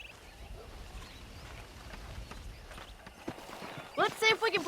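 Horse hooves clip-clop in the Western video game Red Dead Redemption, a soft, uneven patter of steps at moderate distance, then a voice speaks loudly over the end.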